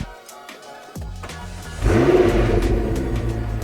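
A McLaren engine with catless downpipes and tuning fires up and revs with a deep, raspy exhaust roar, loud and close, rising after a brief pause.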